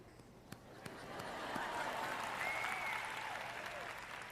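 Audience applause for a preacher during a sermon on the conditions of successful prayer, a steady broadband wash of clapping that swells after the first second and holds, with faint voices and whistle-like tones mixed in.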